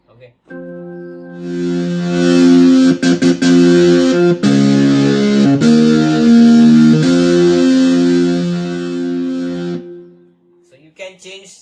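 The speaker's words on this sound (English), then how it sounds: "very hard and very metal kind of distortion" A Yamaha PSR-E453 keyboard plays sustained chords through its heavy DSP distortion effect, gritty, loud and buzzing, with a couple of chord changes before cutting off.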